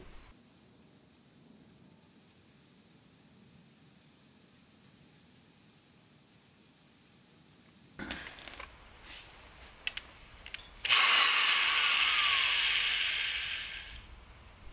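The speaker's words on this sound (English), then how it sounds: "I'm going to drill it with a smaller drill first." After a quiet stretch, a few clicks and bumps are followed by a loud, steady high-pitched whine of a power drill running for several seconds, drilling metal.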